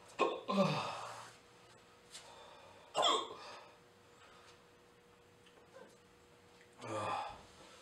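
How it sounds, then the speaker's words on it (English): Hiccups after eating a Carolina Reaper chip: three sharp, abrupt catches spaced a few seconds apart, fairly close, each a short burst with breathy vocal onset, with quiet room tone between. "I've got the hiccups."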